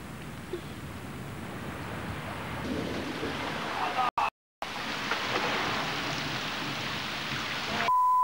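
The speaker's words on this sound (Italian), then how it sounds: "Piove. Quanta acqua!" Rain falls hard outdoors, a broad, steady rushing of water that cuts out briefly midway and then resumes as strongly as before.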